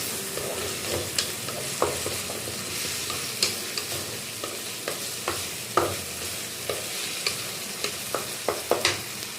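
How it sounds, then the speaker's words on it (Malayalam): Tomato and onion sautéing in a pan for fish curry, a steady close sizzle with a spoon stirring and scraping in repeated sharp knocks roughly every second. "നമ്മുടെ തക്കാളി, സവോള ഇതെല്ലാം നന്നായിട്ട് വഴന്നു വന്നിട്ടുണ്ട് കേട്ടോ."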